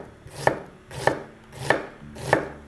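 A knife finely chops an onion on a board in four evenly spaced, steady strokes, each a crisp thud with a quick slice. The strokes are close and moderately loud, with no talking.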